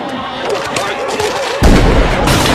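A gunshot in a movie scene shoots out an overhead light: a dense rumbling din gives way to an abrupt, loud, full-bodied blast that keeps roaring to the end.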